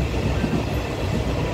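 An R127 diesel-electric locomotive in blue livery hauling four blue passenger cars passes a signal station on the South-Link line in Taitung, a loud, steady rumble of engine and rolling wheels close by with no talk.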